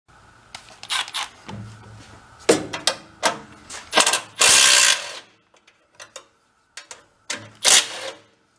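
Ratchet clicking in short bursts while unbolting a small engine being fitted into a tiny 1960s Corvair Monza toy car, loud and close with irregular pauses between strokes.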